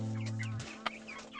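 A hen and her nine chicks cluck and cheep in a few short, separate calls, fairly near, with a steady low hum underneath and no talking.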